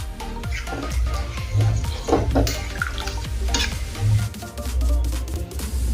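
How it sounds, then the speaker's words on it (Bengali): Hot water goes into a pot of thin rohu fish curry with green banana, papaya and potato, raising a loud, continuous sizzle and bubbling with stirring clinks while someone talks over it. "এখন দেবো গরম জল।"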